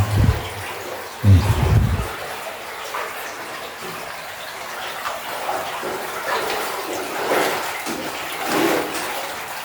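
Underground river water rushes steadily through a cave passage, a continuous broadband flow with brief louder splashes and low thumps near the start.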